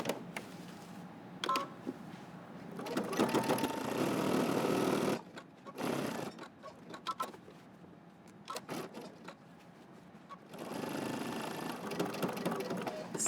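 Home sewing machine stitching a jacket seam, quiet bursts of rapid mechanical whirring separated by pauses and small clicks, with a short backstitch pass near the end.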